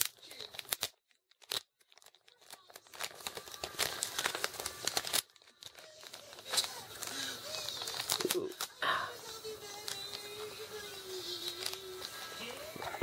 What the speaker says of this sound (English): let's open up the tape and see what we get